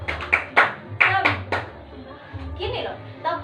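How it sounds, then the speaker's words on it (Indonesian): A primary classroom group claps the rhythmic 'tepuk semangat' cheer, several sharp group claps in an uneven pattern, with children's voices and chanting mixed in. "Ayo, tepuk semangat."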